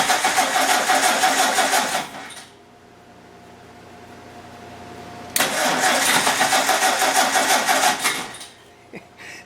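Ford Model A engine cranking over in two long rhythmic bursts of loud, rapid chugging with a quiet pause between, spinning without catching and fading at the end.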